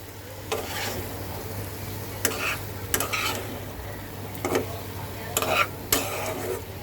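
Potatoes and pointed gourd stir-fried with salt in a pan, with intermittent scraping strokes and a soft sizzle over a steady low hum, the stirring coming in short irregular bursts.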